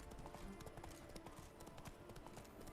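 Horse hooves clip-clopping at a steady riding pace along a road in the video game The Witcher 3, a continuous quiet rhythmic patter of hoofbeats with no talking.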